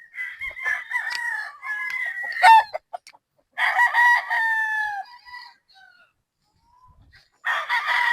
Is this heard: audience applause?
no